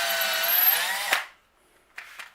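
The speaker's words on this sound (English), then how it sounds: "Drill us a little hole in there." A power drill with a 1/8 bit bores a small hole for a homemade guitar string action measuring tool, a loud, close, high whine that stops after about a second, followed by two short bursts.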